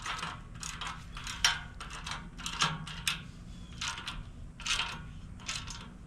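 A 9/16 wrench ratchets as it tightens a bolt on a boat, giving a series of quick metallic clicking bursts with short pauses between, close and moderately loud.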